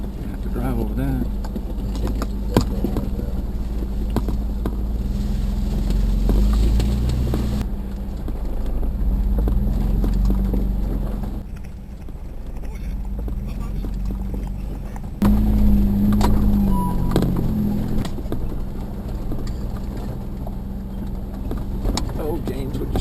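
A Jeep grinds over rough off-road ground in West Texas, a constant loud engine drone with jolts and rattles, while people talk throughout.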